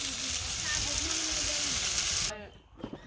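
Pointed gourd (potol) sizzles loudly in a frying pan, a steady close crackle that cuts off abruptly near the end, leaving faint stirring and clatter.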